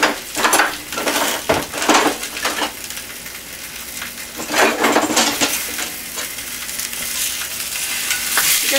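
Sausages frying in a pan during Sunday food prep, with a constant sizzle under repeated scrapes and stirs of a utensil against the pan, plus occasional clinks of cookware, close and fairly loud.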